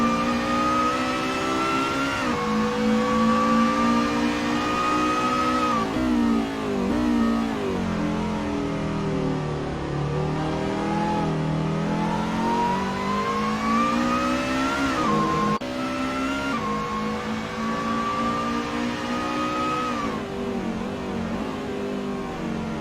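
Onboard race car engine in a Formula V1 racing video game, revving steadily and loudly throughout with rising and falling pitch through gear changes, close and continuous with no talk.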